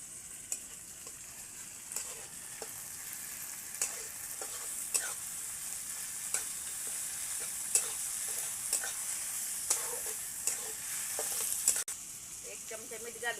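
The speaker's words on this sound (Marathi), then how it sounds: "आता आपण टमाटर घालून घेऊ. टमाटे घालून मऊ असतोपर्यंत परतू टमाटे चांगलं." Onion and tomatoes sautéed in a pan give a soft, steady sizzle. Light scrapes and taps from stirring recur every second or so, with no talking.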